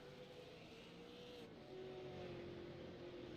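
Race cars in the iRacing sim at Lime Rock drone past in a sustained, muffled engine note that shifts pitch midway as one car pulls away, faint and even throughout.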